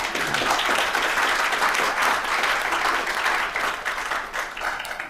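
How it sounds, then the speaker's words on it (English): Symposium audience applauding steadily and loudly for about five seconds, a dense wash of clapping with no voices over it. "That's another applause line,"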